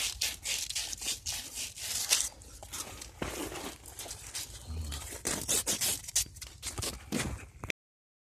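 The tip of a copper refrigerant pipe is scrubbed clean before brazing, with close, steady, scratchy rubbing strokes in a quick rhythm for several seconds, then stopping abruptly.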